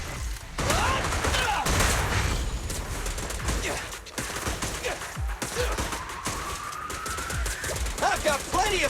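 Gunfire in the action game Zenless Zone Zero, a dense run of rapid shots and impacts with whooshing effects, loud and nearly continuous, with a voice speaking amid the combat.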